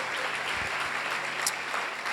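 A congregation at a Christian church service claps loudly and continuously for Jesus, producing a dense, even wash of applause at moderate level.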